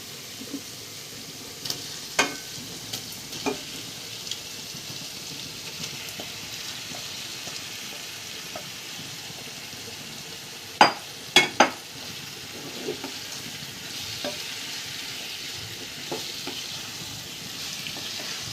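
Marinated chicken sizzles in a pan with softened onions and tomatoes, a steady frying hiss broken by scattered clinks and a few sharp utensil knocks against the pan.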